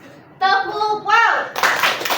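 Children clap their hands together in a rhythmic group clapping game, with a voice chanting along before a burst of bright, crisp claps fills the end of the clip.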